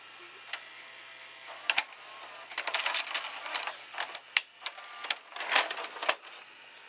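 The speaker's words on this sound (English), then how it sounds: "And now I will press eject with the remote." Toshiba M659 VCR, fitted with a new belt, ejecting a tape on a remote command: a run of close mechanical clicks, whirs and clunks from the tape mechanism, fairly quiet and with no talking.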